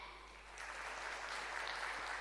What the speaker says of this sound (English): clap your hands so I get a sense of what your vote is